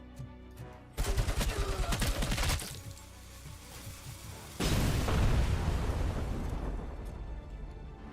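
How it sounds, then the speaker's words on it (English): Machine-gun fire from the RoboCop video game, a rapid burst of loud rattling shots followed after a pause by a longer stretch of heavy, booming gunfire that gradually fades. "More machine gun."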